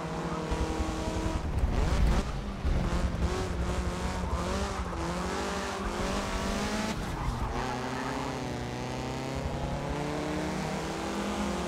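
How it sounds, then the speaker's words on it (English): A big American car engine in the Forza Motorsport 7 racing game roars continuously, with rising and falling revs and tire squeal as the car is driven hard, loud and unbroken throughout. "I think it's like big American engine"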